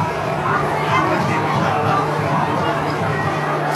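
Crowd of more than 8,000 at an Australian football match at Moorabbin, St Kilda against North Melbourne: a continuous murmur of cheering and hubbub, with voices carrying over it.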